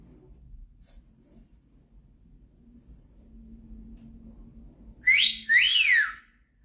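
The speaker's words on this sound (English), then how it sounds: "I got a whistle for notification" A phone notification whistle rings out near the end, two quick rising-and-falling whistle tones in succession, fairly loud and close, following a stretch of quiet room noise with a low hum.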